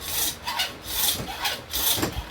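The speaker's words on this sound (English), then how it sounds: "let me use the big hand hacksaw. It'll probably go a little faster because it's got a longer blade." A big hand hacksaw with a long, fine 18-tooth blade cuts through whitetail deer bone, giving about three rhythmic rasping strokes, close and clear, with no talking.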